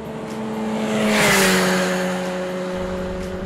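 A Chevrolet Corvette C6 convertible, with its big front-mounted engine, drives past with a smooth engine drone that swells to a peak mid-clip and then fades back to a steady hum.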